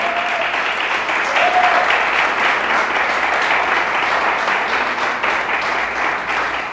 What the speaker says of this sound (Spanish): ¿Alguien le da un fuerte aplauso a Dios?